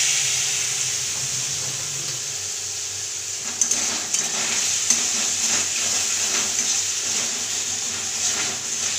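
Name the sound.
water poured onto frying masala, sizzling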